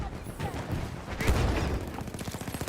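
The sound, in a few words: mortar fire and gunfire in the video game Battlefield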